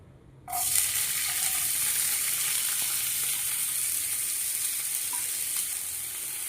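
Onions dropped into hot oil in a pan: after a quiet start, a sudden loud sizzle bursts up close and holds as a steady, even hiss to the end, slowly easing slightly.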